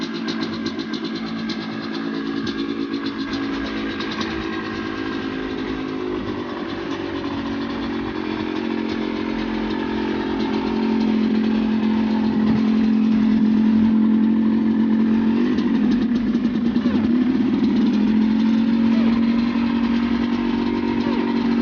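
Rieju MRT 50 supermoto motorcycle engine running close by, a steady buzzing two-stroke drone that idles then rises in pitch and loudness about halfway as the throttle opens.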